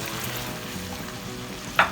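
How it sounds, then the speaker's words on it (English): Garlic sizzling steadily in hot sausage and bacon fat for chilli con carne, a constant close frying hiss with a sharp stir or scrape near the end. "we're going to brown the garlic"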